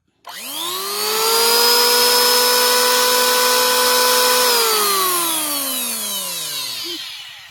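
A Masaki 1900B two-blade electric wood planer, 870 watts at 23,000 rpm, spins up sharply to a steady high-pitched whine with a dense mechanical hum, holds for several seconds, then winds down as power is cut, close and alone.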